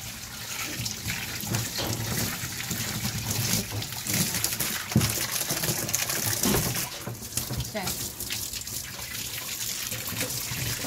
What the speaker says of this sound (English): So just doing another rinse with the fresh water.